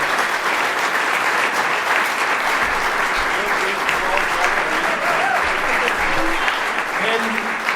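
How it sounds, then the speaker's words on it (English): A lounge crowd at a live show claps and cheers for Jamie Pollard in dense, continuous applause, with some voices mixed in under the clapping. "round of applause for Jamie Pollard"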